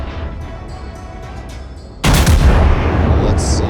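Main guns of the battleship Arizona fire in a naval video game: a sudden loud boom cuts through the engine hum and trails off into a rumbling tail.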